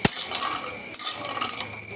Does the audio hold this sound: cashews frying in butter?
yes